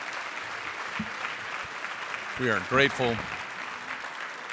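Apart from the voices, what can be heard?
audience applause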